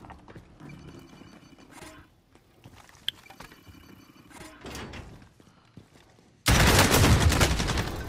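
Video game gunfire in a tactical shooter match: scattered distant shots and clicks early on, then a sudden loud, dense barrage of rapid firing takes over for the last couple of seconds.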